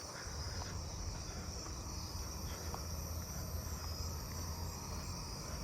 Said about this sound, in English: Another round tip conehead.